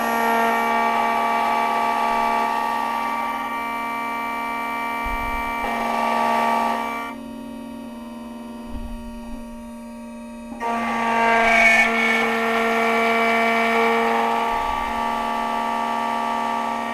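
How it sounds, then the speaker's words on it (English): Black Widow key machine cutting a Schlage SC1 key: a loud, steady motorized whine with a sustained tonal hum runs throughout, dipping briefly mid-way before the cutting pass resumes at full strength, no talk. "the machine will do its thing, and then we'll test it out. So we're just going to index the clamp, index the key, and then it's going to cut it for us"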